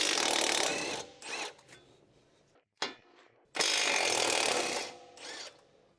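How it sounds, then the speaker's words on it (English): An electric impact wrench with an 18mm socket spins off the lower strut nuts on a 2021-2024 Ford Bronco 4WD, with two loud extended bursts separated by short clicks and a quieter gap. "Use an 18mm socket with the electric impact to remove the lower strut nuts."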